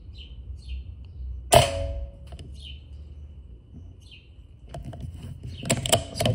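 A PCP B57 4.5mm air rifle fires a single sharp crack at a hanging water-filled can outdoors, with faint birdsong in the background and a few rustling handling noises afterward.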